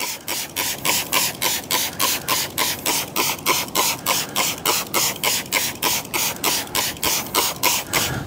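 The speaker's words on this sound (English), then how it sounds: "I'm just gonna spray it on the panel and see what it does." A trigger spray bottle of degreaser pumped rapidly onto a panel, about twenty-five quick hissing squirts in a steady rhythm, close and fairly loud with no talking.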